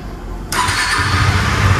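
A Husqvarna Vitpilen 250 motorcycle, 2023 BS7 model, fires up with a sudden burst and settles into a loud, steady idle close by, with no talking.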